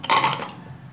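A pressure cooker lid is opened on cooked wheat porridge, giving a single quick metallic clank and clink of the lid against the pot, close and short, fading out.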